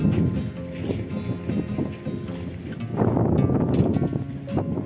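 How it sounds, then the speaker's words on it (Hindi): Strong, steady cold wind roars across the microphone with low rumbling gusts that swell and build, loud and continuous throughout, in rainy weather in the Neelum Valley at Sharda, Azad Kashmir. "ठंडी और बहुत तेज़ हवा चल रही है, बिल्कुल आंधी की तरह।"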